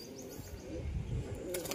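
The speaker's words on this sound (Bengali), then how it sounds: "কবুতরটা নর কবুতর, খুবই ভালো মানের কবুতর।" Male pigeon cooing softly with a brief flutter of wings near the end, quiet and close.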